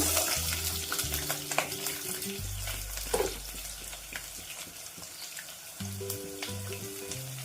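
Curry leaves, dried red chillies and long-sliced onion frying in a pan while being stirred, a steady close sizzle with scraping strokes, over background music and no talking.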